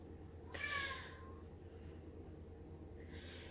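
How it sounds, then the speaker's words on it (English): A pet cat lets out one clear, drawn-out meow indoors, close to the microphone, followed a couple of seconds later by a fainter, shorter second meow over quiet room noise. "the cats have started being kind of crazy"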